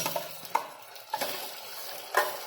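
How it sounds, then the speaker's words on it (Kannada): Ground onion paste with crushed garlic frying in oil in a pot, a quiet sizzle broken by a few sharp stirring scrapes and knocks of a spoon, close and with no speech. "ಇದನ್ನ ಸ್ವಲ್ಪ ಎಣ್ಣೆ ಒಳಗೆ ನಾವು ಒಂದು ಎರಡು ನಿಮಿಷ ಫ್ರೈ ಮಾಡ್ಕೊಂಡು"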